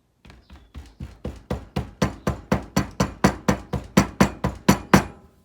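Casting sand being tapped down around a ring mandrel, about twenty sharp, evenly spaced close knocks that build in force and then hold steady, with no talking.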